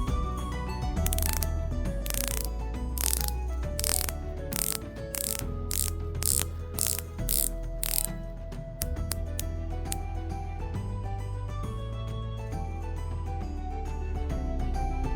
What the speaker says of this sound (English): Let's start off with the bezel action test of the 120 click unidirectional dive bezel.